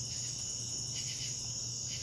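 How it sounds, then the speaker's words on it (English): A cicada stuck in a spider web gives a steady, high, piercing buzz that holds without a break, close and fairly loud, with no speech. "That is a cicada."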